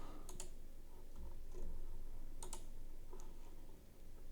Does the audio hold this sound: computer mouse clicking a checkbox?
yes